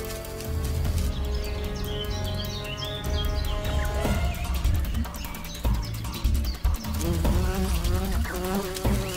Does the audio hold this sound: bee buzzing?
yes